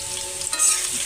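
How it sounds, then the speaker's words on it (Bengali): Chopped onions, about 250 grams, hit hot oil in a wok and give off a brief, steady sizzling hiss, close and fairly loud. "ওই তেলে এখন 250 গ্রাম পেঁয়াজ কুচি দিয়ে দেব"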